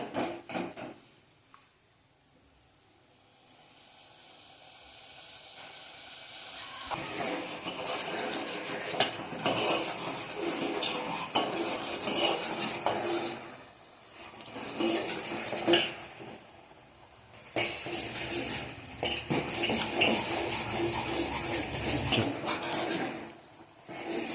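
Melting jaggery for a black sesame sweet is stirred in a pan, with a ladle scraping and clattering against the metal in repeated bursts over a soft sizzle and a few short pauses.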